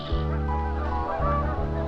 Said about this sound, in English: Geese returning north.